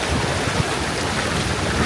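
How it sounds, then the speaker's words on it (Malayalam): Strong wind blowing at Masafi waterfall, a loud, steady broadband roar of gusts buffeting the microphone, with no voices. "കാറ്റടിക്കുന്നുണ്ട്."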